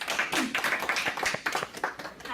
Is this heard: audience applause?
yes